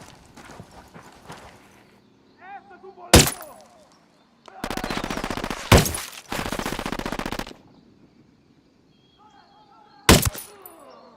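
Automatic gunfire bursts ring out in Ghost Recon Wildlands, with sharp single shots and two long rapid volleys, mixed with horse hooves and whinnies in the game.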